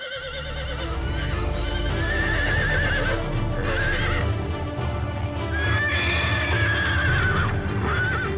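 Cartoon horses whinnying loudly several times over a steady clip-clop of hooves, with a busy animated soundtrack close and continuous throughout.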